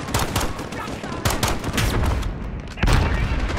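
Continuous heavy gunfire in Call of Duty: Modern Warfare, loud overlapping shots and bursts throughout with sharper cracks at intervals, chaotic battle ambience filling the background.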